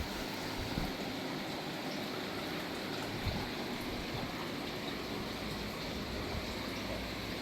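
Flowing water of a small indoor ecosystem garden creek, a steady soft trickling wash that stays constant and fairly faint throughout, with no talking.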